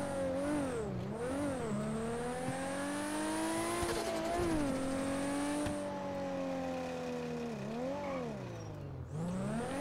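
A sports car's engine idles and rattles in GTA on a FiveM roleplay server, a continuous close engine drone whose pitch repeatedly dips and rises as if lightly revved, steady and loud throughout.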